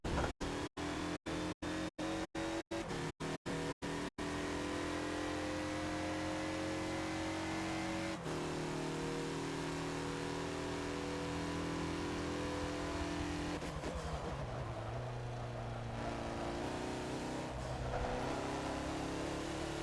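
A 2014 Mazda Lola B12/80 prototype race car in Forza at Sebring, its engine revving hard and sustained with steady harmonic drone, throttle stabs and gear changes early, then a dip and aggressive re-acceleration, loud and close throughout.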